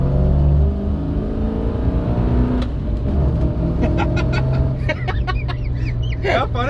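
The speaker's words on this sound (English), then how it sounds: "you can actually rev it out now" An HQ Holden fitted with a T5 gearbox conversion drones loudly and steadily while driving, its engine revving throughout, with warbling higher tones rising over the rumble in the second half.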